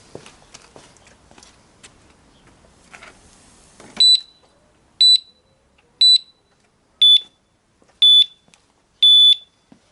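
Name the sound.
motorcycle disc lock alarm sounding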